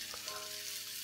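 Onions stir-frying in a large pot for onion soup give off a steady, close sizzle, a continuous hiss with a couple of soft stirring knocks near the start.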